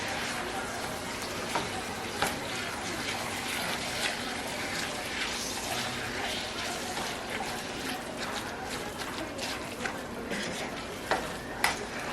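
A lasagna mixture of ground meat and seasonings is stirred in a pan, a steady scraping and soft sizzle with repeated light clinks of the spoon against the pan, fairly close and continuous.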